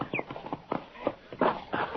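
Horse hooves clip-clop near a corral, about six uneven, fairly close knocks over two seconds.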